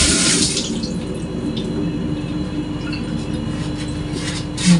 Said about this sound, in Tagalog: hugasan muna natin ito